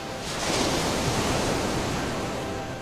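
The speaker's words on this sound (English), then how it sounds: "I hear these waves as we approach Ellis Island" Ocean surf washing steadily on the approach to Ellis Island by water, a continuous broad roar of waves rising slightly and holding, with wind in the background and no voices.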